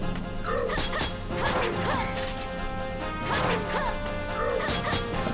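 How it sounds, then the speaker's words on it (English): Dog barking repeats in short bursts through a busy game soundtrack in Dark Cloud 2, layered over crashing hits and steady music. "That dog won't shut the fuck up."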